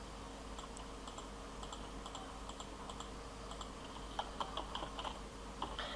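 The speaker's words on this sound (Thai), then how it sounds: "ให้เราพิมพ์ข้อความที่ต้องการลงไปเลยนะคะ" Steady typing on a computer keyboard while entering text in Photoshop, a soft continuous run of light key clicks at low level with a few sharper taps near the end, no talking.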